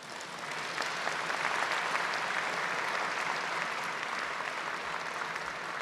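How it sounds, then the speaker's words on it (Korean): A large audience at the KF-21 fighter jet rollout ceremony bursts into sustained, even applause, a broad wash of clapping that holds steady for several seconds. "큰 박수로 맞이해 주시길 바랍니다."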